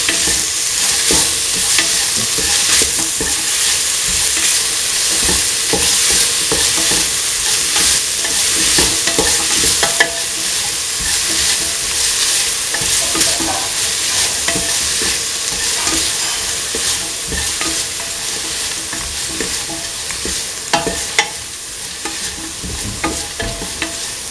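Lentil carrot rice with salt stirred in a pan, a continuous sizzle with steady scraping and stirring strokes and occasional utensil clicks, close and fairly loud, no talking.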